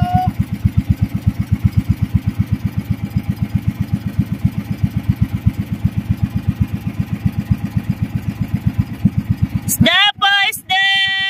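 A fishing boat's engine chugs with a steady, rapid pulsing beat, close and loud, slowing, then cuts off near the end as a voice calls out.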